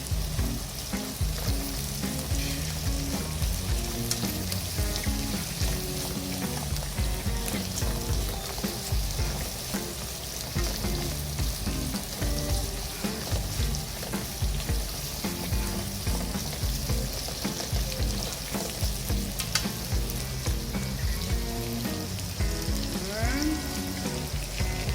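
Noodles and Chinese cabbage stir-fry for yakisoba over a high flame, giving a steady, loud sizzle with scraping stirs throughout. No one speaks.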